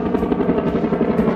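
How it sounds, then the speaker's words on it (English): A helicopter's loud, throbbing rotor chop fills the air close overhead at Silverwood Lake, California, a steady rapid beat with engine roar. "We actually got a big old helicopter right there."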